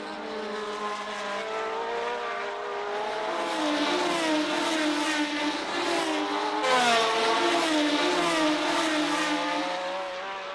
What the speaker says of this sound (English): Here the V12s could show all their power.